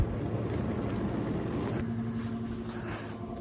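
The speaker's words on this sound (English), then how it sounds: "We got a little bit of water coming out." Water trickling and gurgling steadily from a drip irrigation emitter pushed into the ground, a close, continuous wet splashing with no talk.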